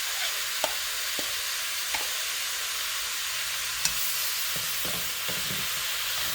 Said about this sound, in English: And now I'm going to add in some